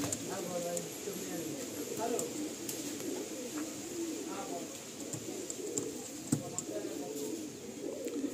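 A pair of black pigeons gives soft, repeated cooing after release, fairly quiet and close, with a murmur of background voices and activity underneath.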